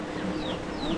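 Chickens cluck in a brief, close burst while running for shelter as rain falls outdoors, over a steady patter of background noise.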